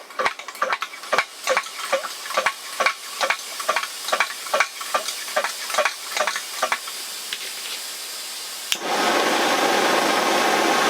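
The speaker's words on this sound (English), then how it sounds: "We're going to pressurize the tank." A vintage single-burner camp stove's fuel tank is pressurized by hand pumping, a close series of regular rhythmic clicking strokes, then a steady loud hiss takes over near the end.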